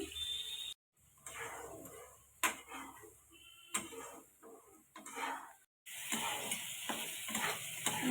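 A paste of tomato, ginger, onion, green chili and garlic sizzling in a hot pan for a prawn curry, crackling bursts with scraping strokes, interrupted by brief silent cuts, close and without speech.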